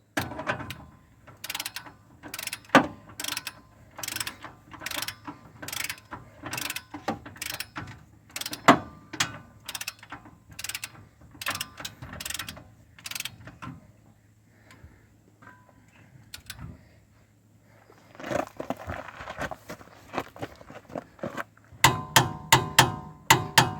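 A 1/2-inch drive torque wrench with a 30mm socket tightening a spindle nut on a 2016 Nissan Versa gives sharp mechanical clicks in a fast, steady series, then pauses and resumes in a denser burst, close by with no speech.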